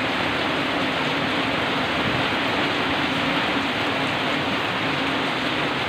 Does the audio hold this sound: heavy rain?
yes